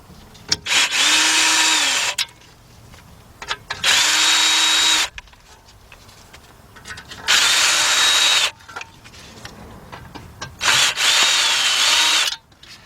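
A Craftsman 19.2-volt cordless impact gun, fitted with a 1/4-inch drive extension and a T30 socket, works on a 2008 Audi A6 Quattro front wheel bearing. It gives four loud, close bursts of whirring with quiet gaps between them.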